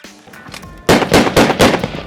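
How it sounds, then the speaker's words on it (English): Rapid bursts of gunfire in a military training setting, several loud, close shots in quick succession after a short quiet lead-in. "This guy's getting shot at."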